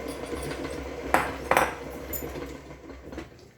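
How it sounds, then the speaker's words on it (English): A spoon clinks against a mixing bowl while stirring pumpkin roll cake batter, two distinct scraping knocks close by amid soft, quiet handling. "Stir this up a little bit."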